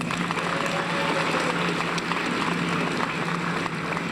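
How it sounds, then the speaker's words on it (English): Audience at an awards convocation applauds in a steady, dense wash of clapping from many hands, continuous and fairly even across the whole stretch. "give yourself an applause"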